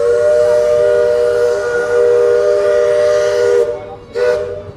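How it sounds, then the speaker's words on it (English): The Liberty Belle riverboat's steam whistle sounds a long, loud, steady blast on the Rivers of America at Magic Kingdom, Walt Disney World, then cuts off and gives a second short toot. "You can hear the steam whistle."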